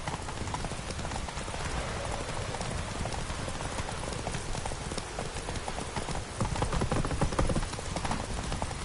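Galloping horse hooves from The Witcher 3 video game pound in a steady, dense clip-clop rhythm, loud and continuous throughout, growing a little heavier near the end.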